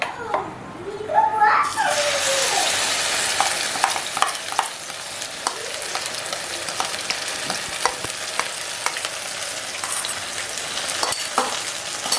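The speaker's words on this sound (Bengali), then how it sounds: "পাঁচ ফোড়ন দেওয়ার পরে এবার আমি একে একে মশলা পেস্টগুলো দিয়ে দেবো" Panch phoron spices and masala paste fry in hot oil with a steady close sizzle while a spoon stirs and scrapes the pan, and a voice talks faintly in the background.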